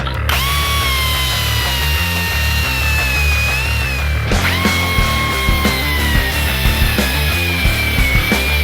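A power saw cuts through the stock exhaust pipe of a 1994-2001 Dodge Ram 1500, a loud, close whining grind that rises, pauses briefly and starts again with rattling metal chatter.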